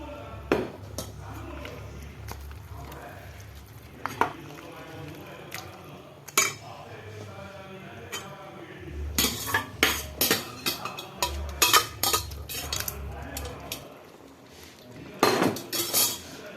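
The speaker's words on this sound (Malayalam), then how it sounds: "കുക്ക് ചെയ്ത ബീഫ് മസാലയിലേക്ക് ചേർക്കാം." Cooked beef tipped into masala in a pan for Kerala-style beef fry, with a spoon scraping and clinking against the metal pan in repeated bursts, loudest toward the end, and no one speaking.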